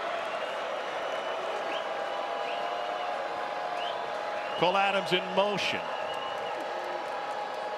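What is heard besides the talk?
pro-Alabama football crowd cheering in Nashville stadium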